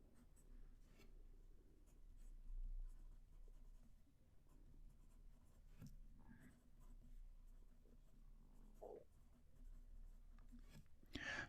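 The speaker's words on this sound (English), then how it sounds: "So the pen I'm going to be using for this is a Twsbi VAC 700R in the iris pattern, and it's got a broad nib in it." Broad-nib Twsbi VAC 700R fountain pen in the iris pattern writing on paper, a quiet, steady scratch of the nib with small strokes and pauses, close and faint, with no one talking.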